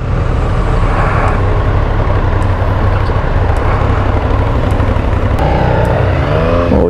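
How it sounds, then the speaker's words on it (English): A Triumph Street Triple 675 street bike being ridden, its engine droning loud and steady throughout with rising and falling revs and strong rumbling wind noise. "Street Triple 675. It's been a while since I rode a street bike."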